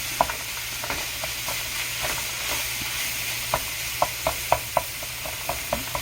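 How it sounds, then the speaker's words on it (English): Italian sausage sizzles in a pan while a utensil breaks it apart, sharp clacks and taps hitting the pan irregularly over a steady frying hiss, growing more frequent near the end. "there's one thing about cooking Italian sausage is sometimes it's hard to get it cut up into small pieces when you're cooking it"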